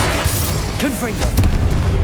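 A Confringo fire spell goes off in Hogwarts Legacy as a booming blast with sweeping, whooshing magical tones over a dense, noisy game backdrop, lasting about two seconds.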